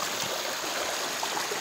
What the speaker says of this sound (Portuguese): Riachinho aqui, ó.